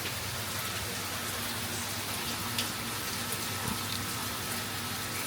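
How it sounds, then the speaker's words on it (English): Steady, even rain falls continuously at a trip lodging in Branson, a dense soft hiss of drops on surfaces with no voices and no breaks. "So we came to Branson to watch the rain."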